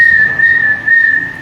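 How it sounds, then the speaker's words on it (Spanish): A single person whistles one sustained, steady tone, loud and close, with slight wavering in pitch and a short break, and no voices. "Entonces usted empezaba a silbar"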